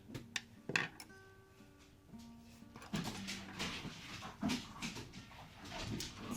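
Dogs wrestling indoors, with scattered yips, whimpers and soft growls among bumps and scuffles, fairly faint and irregular in the background with no talking.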